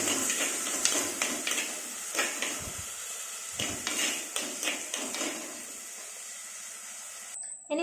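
Fish curry ingredients with chopped ginger are stirred in a pan, a soft scraping and sizzling with irregular knocks of the spoon, fairly close and with no voices.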